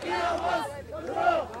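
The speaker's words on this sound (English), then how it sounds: "There are still people out in the streets. They are cheering." A large crowd cheers and chants in the streets of Cairo during the 2011 Egyptian pro-democracy celebrations, a dense, continuous roar of many voices rising and falling in waves.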